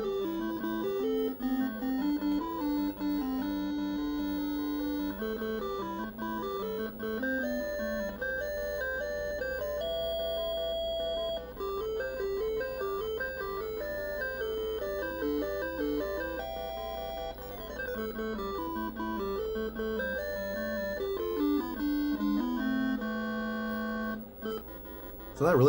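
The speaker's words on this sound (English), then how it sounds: "So this is with Tandy sound." A Tandy 1000 TL/2 computer's built-in sound chip plays a bleepy square-wave melody with stepping notes and a steady rhythm, recorded fairly quietly and continuously with no talk.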